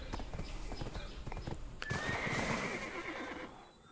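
Horse hooves clopping in a steady rhythm with a neigh, from a mount in the Black Desert Online video game, with game effects layered over them throughout.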